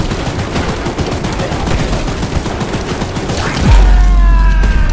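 Gunfire from the Choo-Choo Charles video game rattles in quick repeated bursts of close, loud shots, followed by a heavy low rumble and rising tones at the end.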